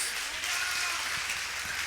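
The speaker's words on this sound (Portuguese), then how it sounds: "Dê uma linda salva de palmas a Jesus" A congregation gives a warm round of applause for Jesus during a Portuguese-language church worship service. The clapping is dense and sustained, filling the whole stretch without a break, and a faint voice sits underneath.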